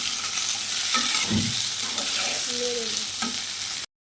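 Salted potatoes fry in oil in a kadai, giving a steady close hiss with a few soft knocks and scrapes from a utensil, and no voices.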